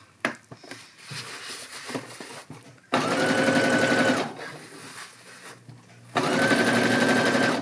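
A sewing machine stitches the sleeve seam of a parka in two loud, steady bursts with quiet handling of fabric between them; no one speaks.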